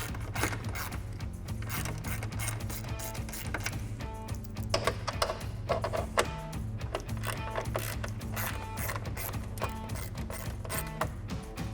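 Ratchet clicks in quick bursts as bolts come off the headlight of a 2018-2020 Ford F-150 during a Raxiom LED headlight install, with a steady low tonal hum running underneath.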